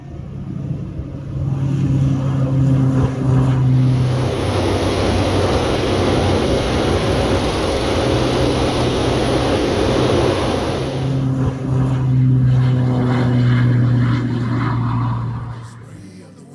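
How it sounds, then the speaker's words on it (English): A small propeller aeroplane drones loudly and close by, its engine roaring steadily as it pulls away, with the pitch and intensity shifting over the span. "And there goes Pietro on his little aeroplane."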